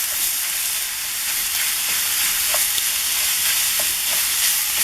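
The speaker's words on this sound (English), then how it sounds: "all we're doing is just browning the meat" Sausage meat browning in a skillet over medium heat, a steady close sizzle and crackle with faint scraping stirs, no voices.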